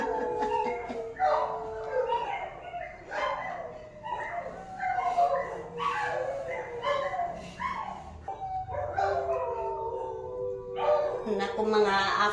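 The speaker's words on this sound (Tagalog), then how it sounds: "Naku mga aso dito mga bi, nag-aalulong." Dogs howl and yip in long wavering, overlapping cries at moderate distance around a house at night, rising and falling continuously across the stretch.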